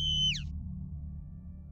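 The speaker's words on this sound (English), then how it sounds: "Weird bird." Weird bird call in the game Angels of Death: one short, clear two-toned whistle that bends sharply downward, followed by a low, quiet background hum.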